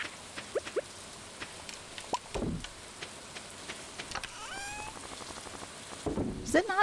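Steady rain in the farming video game Stardew Valley, a soft hiss with scattered drip-like ticks, fairly quiet and without music or talk.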